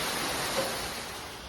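Pam Bok waterfall in Pai, Thailand, a steady broadband rush of falling water, close and constant with no pauses.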